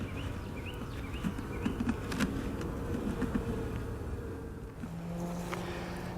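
Honey bees buzz at an open hive during a swarm check, a steady low drone holding through the whole stretch along with faint scattered clicks and handling noises. No one speaks.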